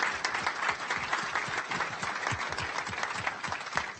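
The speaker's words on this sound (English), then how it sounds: "give an applause first of all" An audience claps for a panel discussion on manufacturing, steady dense applause from many hands throughout, moderately loud and close.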